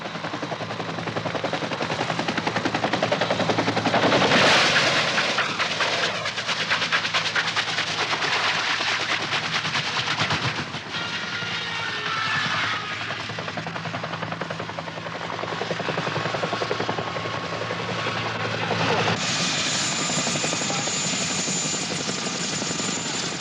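A helicopter roars loudly and steadily throughout a 1967 war film scene, its rotor chop mixed with crackling gunfire-like bursts, and a brief surge midway before the din continues.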